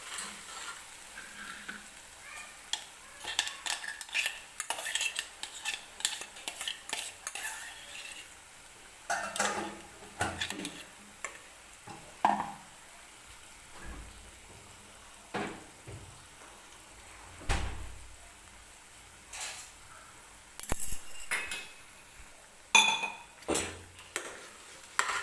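Gravy for matar paneer roasting in oil in a pan, with soft sizzling under repeated scraping and clinking of a spoon against the pan, a few louder knocks, no talking.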